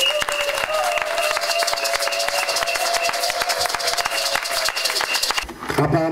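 A church congregation claps and cheers loudly and steadily during a worship service, the applause dense and continuous before fading near the end.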